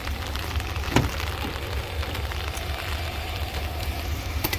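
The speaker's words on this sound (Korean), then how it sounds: "비가 많이 옵니다" Heavy rain pours down steadily outdoors around a parked van, a dense, loud hiss with scattered sharper drops throughout.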